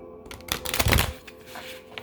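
A brief burst of tarot cards being riffled and shuffled, close up, with soft papery flutter and a few light taps, no talking.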